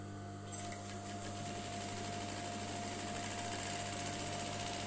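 A sewing machine runs steadily while stitching a zipper onto an A-line skirt, a continuous close whirring hum with a faint fast rhythmic chatter throughout.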